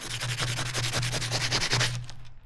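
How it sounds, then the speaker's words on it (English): Low grit sandpaper rubbing motorcycle metal parts by hand for paint prep, a fast steady series of close scratchy strokes with a low hum beneath, stopping near the end. "we're literally just gonna sand down all of the pieces"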